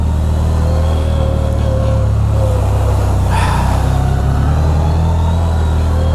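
CFMOTO ZFORCE 950 HO Sport UTV engine pulling in low gear, a loud steady close drone with a faint whine and a brief rushing burst midway.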